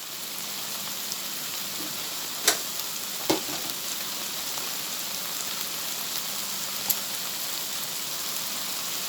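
Chicken with a splash of soy sauce stir-frying in a pan, a steady bright sizzle throughout, broken by a few sharp scraping taps from an egg lifter.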